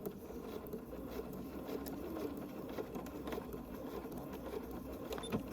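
A sewing machine back stitches the seam of a spool quilt block, a soft continuous mechanical whir with light patter, fairly faint and steady, no voices.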